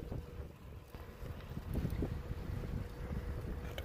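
Wind buffeting a microphone on a ride heading straight into a headwind, a steady low rumbling gusty roar throughout, close and continuous with no talking.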